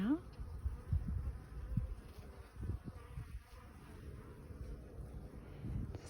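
Honeybee foragers flying in and out of a beehive on a spring afternoon, a faint buzzing drone of many insects with occasional louder passes close by, mixed with light wind noise.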